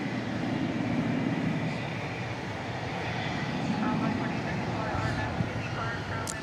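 An American Airlines Boeing 737 departs DFW Airport at night, heard as a steady, broad engine roar that holds at an even level with a low rumble throughout.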